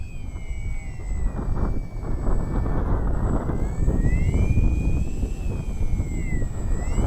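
Electric motor of an H-King Bixler 3 RC plane holding nearly stationary in the air, a continuous whine that rises and dips in pitch over loud outdoor wind rumble.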